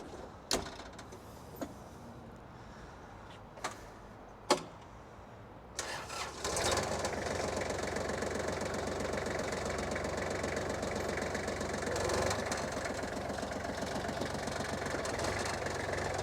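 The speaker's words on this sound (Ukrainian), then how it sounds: "Давайте заведемо трактор та послухаємо, як він працює." A few sharp clicks and clunks, then a Kubota GL27 cab tractor engine cranks and catches, settling into a steady, loud idle that runs on continuously.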